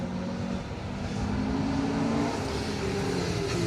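A Mazda MX-5 rally car on a circuit rally stage: a steady, fairly loud engine drone holds for a few seconds with a slightly rising pitch and no voices.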